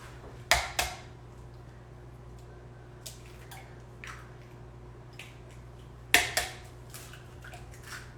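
Two eggs are cracked against a bowl in a kitchen, each giving a pair of sharp taps with a faint wet splat, separated by a quiet pause over a low steady hum.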